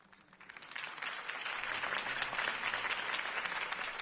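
Sustained applause from a large crowd in the video game Batman: The Telltale Series, rising quickly from a quiet start into a steady, dense wash of clapping that holds to the end.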